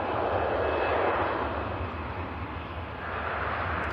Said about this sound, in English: That EasyJet rolling out to Tenerife.